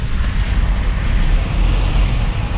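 Water waves wash in steadily on a hot day in Spain, making a continuous loud roar mixed with wind buffeting the microphone, with no clear breaks.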